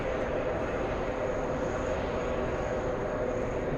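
A Lufthansa 410 airliner from Munich on short final at JFK gives a steady broadband engine roar with a thin high tone, continuous and moderately distant, with no talk.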